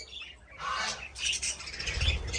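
Cockatiels squawking inside a pigeon aviary, a run of harsh close chirps and squawks in uneven bursts with some wing flutter, no talk.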